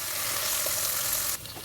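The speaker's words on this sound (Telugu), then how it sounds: "మనం ఉప్పు వేసుకుంటే ఉల్లిగడ్డ తొందరగా వేగుతుంది" Onions frying in a pan with salt for a Telangana-style bottle gourd dal give off a close, steady sizzle with a soft stirring scrape, dropping off abruptly near the end.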